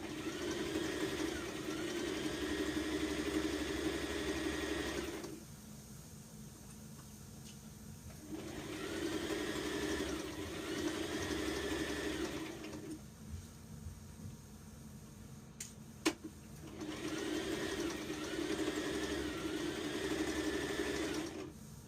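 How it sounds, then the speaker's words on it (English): Sewing machine hemming the edge of a dress, running in three long steady bursts separated by pauses, loud and close with a mechanical hum. "I'm just showing you can do it with a sewing machine"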